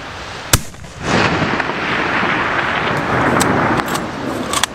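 A single sharp, loud rifle shot fired at long range during a mountain chamois hunt, followed by sustained wind and outdoor noise with a few faint clicks.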